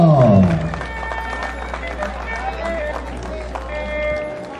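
Audience applause at a huaylias music gathering in Parinacochas, Ayacucho, a dense patter of many hands clapping under an announcer's voice, with a steady low hum beneath, continuing throughout before fading at the end.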